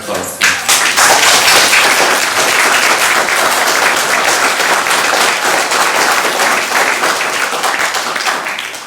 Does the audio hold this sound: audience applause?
yes